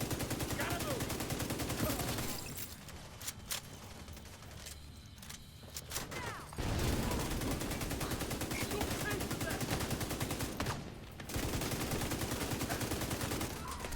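Sustained automatic gunfire from a deployed turret in The Division 2 rattles across most of the stretch, loud and dense, dropping briefly in the middle before resuming with chatter of other weapon fire.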